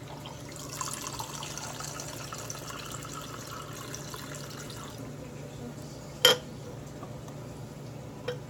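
Cold brew coffee pouring from a container's spigot, a faint continuous trickling stream with a sharp clink of glass near the end.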